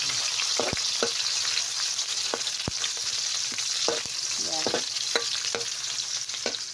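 Onion frying in a pan with garlic already golden brown, a steady sizzling hiss with scattered stirring clicks and scrapes, close and continuous, no talking.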